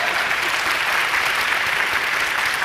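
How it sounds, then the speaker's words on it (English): An audience at an education awards celebration for Harford County Public Schools breaks into dense, continuous applause, a loud, even wash of many hands clapping with no pauses and no voices on top. "Let's clap for them."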